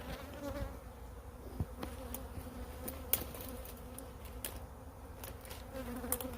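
Honey bees swarm and buzz in an opened hive, a steady dense hum at close range with a few sharper knocks and bumps scattered through it; no one speaks.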